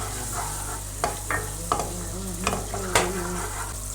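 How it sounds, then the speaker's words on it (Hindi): Garlic fries in about two spoons of hot oil in a wok, giving a steady close sizzle broken by several sharp scraping clicks from stirring, with no voices. "अब लहसुन मैंने फ्राई कर लिया।"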